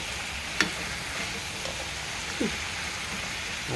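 Chicken wings frying in a pan give a steady, rain-like sizzle with a couple of faint clinks and stirring touches, continuous and moderately loud, with no talking.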